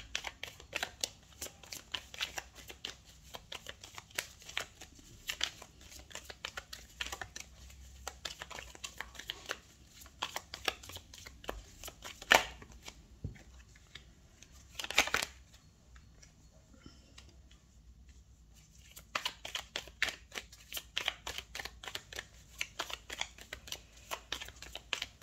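Tarot cards being shuffled for a reading, a dense run of soft riffling clicks and flicks that pauses briefly midway before resuming, close and quiet with no talking.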